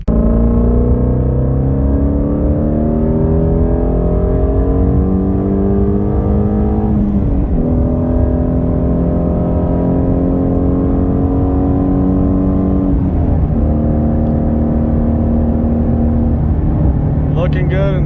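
Ford Mustang GT350 V8 engine cruising on the road, a steady loud drone with harmonic tones that rise gradually, dip and shift around two gear changes, then climb again throughout.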